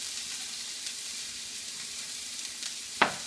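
Shallots and garlic fry in a hot non-stick wok with a soft, steady sizzle and a single sharp clink of a utensil near the end.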